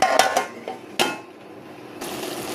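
A metal lid goes onto a pan of okra simmering in a little water for a spicy okra curry: a few quick clinks, then one sharper clang, followed by a low, steady simmering hiss.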